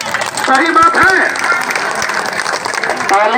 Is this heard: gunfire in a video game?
no